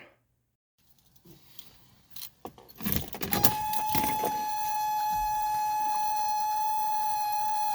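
Keys jingle and a door clunks before a 1985 Mercedes 300D diesel car cranks and fires on a cold start, settling into a steady, loud diesel idle with a faint whine.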